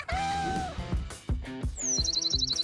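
Birds chirp in a children's craft cartoon, bright tweets over light music.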